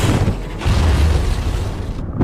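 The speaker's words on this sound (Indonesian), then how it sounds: "torpedo meledak dengan sangat dahsyat dan membuat Kursk karam" A submarine torpedo explosion erupts in a heavy, rumbling boom that rolls on for a couple of seconds before cutting off.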